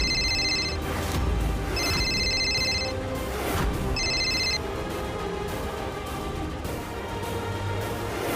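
A phone rings in three repeated bursts of electronic trilling tones, clear and steady against a dense musical background, with no speech.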